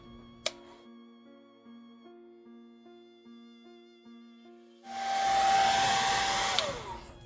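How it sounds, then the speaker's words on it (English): After a stretch of soft tonal hum and a single click, a hair dryer switches on with a loud, steady roaring whoosh that continues to the end. "I'm gonna use my hair dryer and then pull the tape off"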